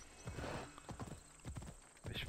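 Hooves clop rhythmically at a gallop, a horse running at a steady pace in Assassin's Creed Odyssey, with a brief whinny-like snort near the end.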